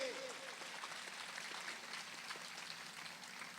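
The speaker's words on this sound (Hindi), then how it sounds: "तालियां बजाते प्रभु को धन्यवाद करिए" A congregation at a Hindi church service claps together in thanks to God, a faint, steady wash of many hands sounding distant and uniform throughout.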